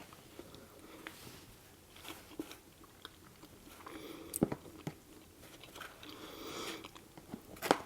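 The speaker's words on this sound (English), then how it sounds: "So let's give it a taste test, see what it actually tastes like." Someone biting and chewing a spoonful of pasta bolognese with meat, close soft mouth sounds with a few sharper crunchy bites scattered irregularly, no talking.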